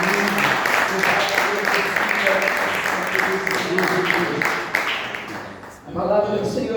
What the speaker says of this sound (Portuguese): Louva a Deus com as palmas bem alegres do Senhor Jesus.